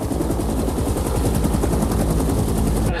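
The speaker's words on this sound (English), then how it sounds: "take one of his gunships and strafe the palace" A helicopter gunship strafes a palace with unbroken, rapid machine-gun fire, loud and dense throughout, with a low engine rumble beneath the bursts.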